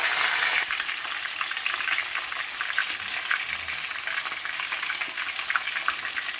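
Fish for Jamaican brown stew fish sizzles and crackles loudly in a frying pan as it is turned over, a dense continuous hiss with small pops, close and alone without talk.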